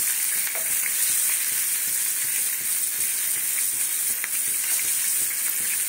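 Cornflour pakoras frying in oil make a dense, constant hiss and crackle, close up and steady throughout with faint pops and no talking.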